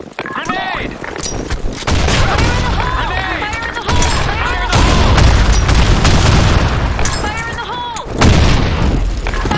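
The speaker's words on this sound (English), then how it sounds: "Grenade!" Grenade explosion in the shooter game Blackshot, heavy booms set within loud, chaotic gunfire, with voices shouting over the din throughout.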